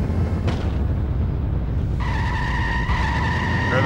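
Car skidding on the handbrake in The Simpsons: Hit and Run, a loud sustained tire squeal starting partway through over constant engine and game noise.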